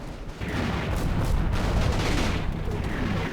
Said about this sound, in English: A minute later, a heavy American mortar barrage pounds the side of the ridge